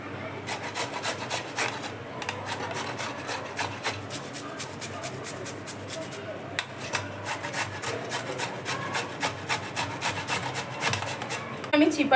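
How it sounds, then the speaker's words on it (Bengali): Peeled pumpkin is rubbed against a hand grater in steady, rhythmic rasping strokes, each scrape close and fairly loud, repeating without pause throughout. "আমি চিপারের মধ্যে খুব ভালো করে এইভাবে ঘষে নিচ্ছি।"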